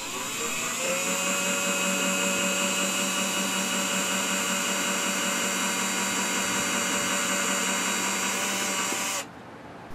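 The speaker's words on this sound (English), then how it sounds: "So with a battery-operated drill, I'll start the pilot holes to help mount the power outlet boxes." A battery-operated drill bores pilot holes for mounting power outlet boxes, a steady high whining motor tone held continuously for about nine seconds before stopping abruptly.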